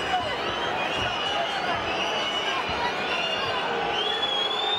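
A boxing arena crowd at a Roy Jones Jr versus Julio Cesar Gonzalez fight reacts to a slow round, a continuous dense roar of voices under commentators talking.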